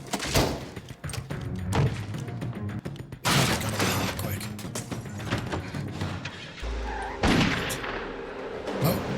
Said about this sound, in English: Who the fuck's shooting at us now?